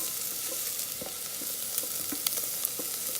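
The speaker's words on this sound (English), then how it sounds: "While sauteing onions, add little bit of salt." Onions sauteing with a little salt in an Instant Pot for goat curry, a steady close sizzle broken by occasional soft scrapes and clicks of stirring.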